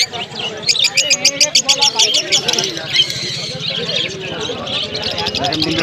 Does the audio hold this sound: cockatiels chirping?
yes